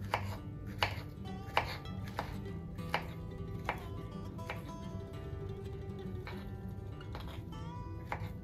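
A knife slices through a banana on a cutting board for a papaya banana smoothie, giving a series of soft, regular taps roughly every second, close and fairly quiet, with no talk.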